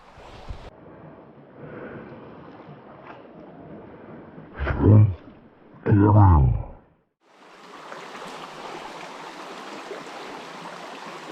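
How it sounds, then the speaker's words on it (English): A sambar deer gives two loud, harsh honking calls close by, each a rough bellow about a second long, followed by a steady rush of running water from a trout stream. "Sambar Deer just honked up there, frightened the living crap out of me"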